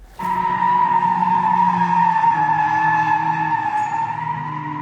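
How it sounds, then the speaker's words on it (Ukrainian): A car drifts on a city avenue at night, its tires giving one long, loud, sustained screech with a steady tonal whine that starts abruptly and holds for several seconds without talk. "різкий гул від машини можна сплутати навіть зі звуками російських ракет"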